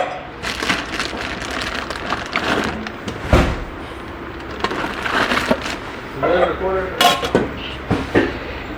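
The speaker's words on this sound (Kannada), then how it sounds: "4 ಪ್ಲೇಟ್ ಇಡ್ಲೀಸ್ ಬರುತ್ತೆ ಪ್ಲೇಟು." Metal idli cooker plates, four of them, are handled near the mic, giving repeated clattering knocks and bright clinks in irregular bursts.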